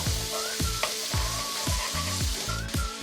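Chopped onions and ginger sizzle loudly in a hot pan while a spoon stirs them, giving rhythmic scraping strokes roughly every half second over a constant frying hiss.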